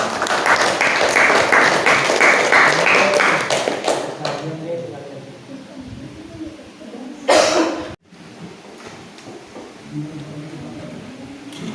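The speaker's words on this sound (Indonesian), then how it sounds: "juga kita beri aplaus buat kelompok juga ya" Applause from a classroom group after a LAN networking practice session, a few seconds of clapping at the start that fades into quieter room noise and talk.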